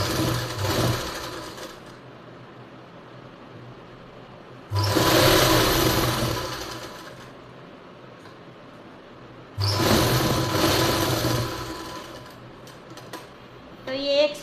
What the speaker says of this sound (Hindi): इसके ऊपर से एक कच्ची सिलाई लगाएंगे, ताकि हम बाद में निकाल दें सिलाई को और तुरपाई कर लें।